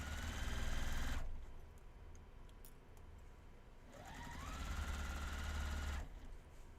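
A sewing machine stitches along the edge of a dress in two bursts of steady, fast whirring with a quiet pause between them, close and moderately loud.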